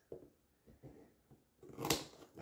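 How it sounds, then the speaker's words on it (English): Scissors snip at toy packaging during an unboxing, a few soft separate cuts followed by a louder, sharper rip-like snip near the end, close by with no talking. "I'm just going to use some scissors."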